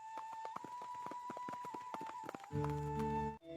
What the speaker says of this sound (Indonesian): Raden Inu menunggangi kuda melewati lembah dan persawahan menuju desa tersebut.